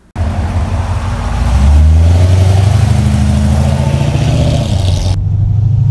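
A 2008 Chevrolet Corvette C6 3LT V8 fires up with a sudden loud catch, then rises into a deep, throaty rev before holding at a steady, rumbling idle close by.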